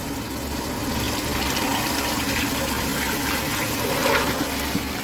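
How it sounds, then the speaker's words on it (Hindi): Soaked black chickpeas tip into a cooking pot along with their soaking water, a steady continuous gushing pour that fills the whole stretch with no speech. "अब हम इसमें छोले डाल देंगे पानी समेत"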